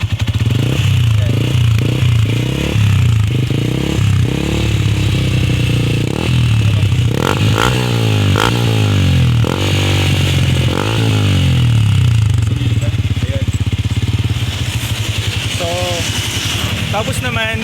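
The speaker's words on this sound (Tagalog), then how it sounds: "I-rev natin siya para marinig nyo." Yamaha Sniper 150 motorcycle with a Mody5 power pipe exhaust, recorded up close, idles loudly then revs repeatedly in rising and falling bursts with crackling pops while someone speaks.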